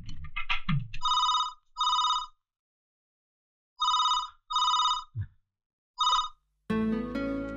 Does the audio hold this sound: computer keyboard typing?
no